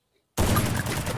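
Gunfire in the Garena Free Fire mobile shooter game bursts in after a moment of silence: a loud, rapid volley of shots that carries on to the end.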